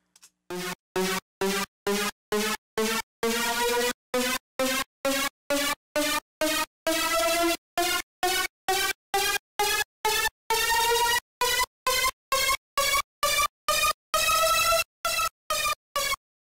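A synthesizer with pitch bend range set to its maximum of 24 plays a long series of short, evenly spaced notes, each bending steeply upward in pitch, the whole run gradually drifting higher.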